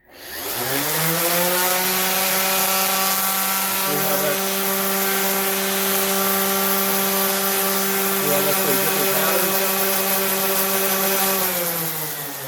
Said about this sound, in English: these are actually a great general purpose sander that you can do a lot of stuff with it